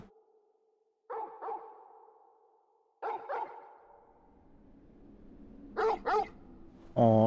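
Torgal, the canine companion in Final Fantasy XVI, barks in three quick pairs, loud and close, with short quiet gaps between each double bark and a steady low in-game hum beneath.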